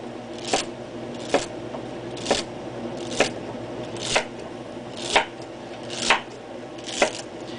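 Vegetables cut into sticks are sliced for a pot roast, each knife stroke landing on the board in a steady rhythm of about one chop per second. The chops are close, crisp and unaccompanied by talk.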